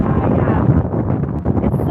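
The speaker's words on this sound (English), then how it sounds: "it's so windy here" Strong beach wind buffets the microphone in a constant loud low rumble with gusty surges, heard up close and continuous throughout.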